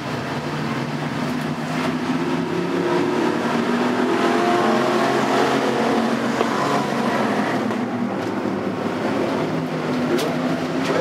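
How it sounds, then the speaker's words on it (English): Factory stock race cars roar past at a speedway during a feature race, engines loud and sustained as the pack thunders by without letup. "Here they come for the green flag with 5 laps complete."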